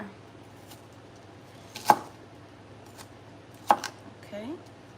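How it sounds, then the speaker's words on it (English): Two sharp knife chops on a board while cutting onions for a probiotic salsa, separated by a short pause, over faint background hum and low murmuring voices. "I do try to chop the onions a little bit smaller."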